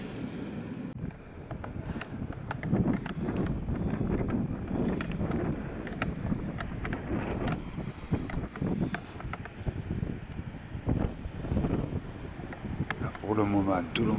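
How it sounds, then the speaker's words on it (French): Wind picks up at night at a fishing campsite in Spain, buffeting and rumbling against the microphone in uneven gusts with muffled voices underneath. "Le vent, il se lève."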